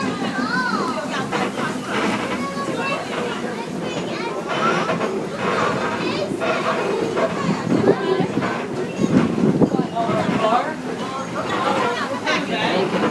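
Strasburg Railroad excursion train riding along, a steady rolling rumble heard from on board beneath the chatter of children and other passengers.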